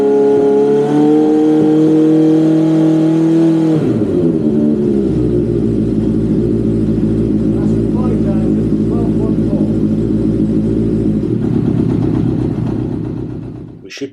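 A Honda CB750 motorcycle engine is revved up to about 5000 RPM, with a steady loud drone that holds high throughout and then falls off near the end.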